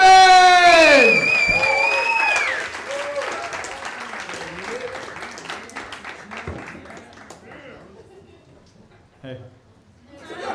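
A comedy club audience bursts into loud applause and cheering, with whoops and a voice shouting over it, the clapping gradually thinning and fading toward the end.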